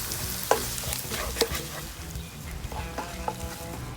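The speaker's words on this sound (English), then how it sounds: "all our masalas are kind of getting cooked off" Masala frying and sizzling in a pan while being stirred, cooked for an Onam sadya, a steady close crackle with a few sharp spatula scrapes and taps against the pan.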